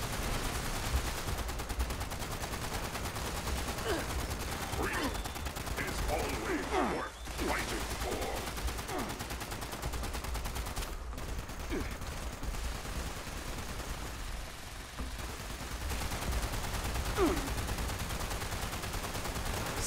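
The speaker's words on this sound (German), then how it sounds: "Alles explodiert, alles geschaden. Kugeln fliegen von A nach B." Continuous gunfire and explosions in the video game Fallout 76, a dense ongoing battle with rapid shots and occasional bursts over a constant loud background rumble throughout.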